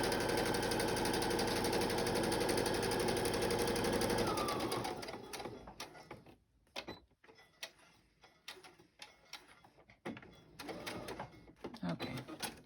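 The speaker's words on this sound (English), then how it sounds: "I'm going to do a stitch down. I'm not going to move the sewing machine." A sewing machine stitching through paper runs in a fast continuous whir for a few seconds, then slows to short bursts of stitching with quiet gaps and handling noises.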